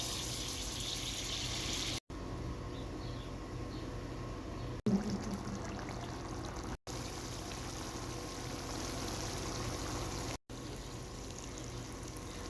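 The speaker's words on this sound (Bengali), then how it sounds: "তাই আমি সামান্য পরিমাণে গরম পানি অ্যাড করছি" Hot water poured into a mutton liver curry, a steady hissing pour and trickle lasting several seconds with a few brief breaks, close and alone.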